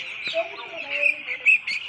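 Six-day-old poultry chicks at a farm during vaccination peep in close, high, clear chirps, a busy overlapping run of short calls with a few louder peeps toward the end.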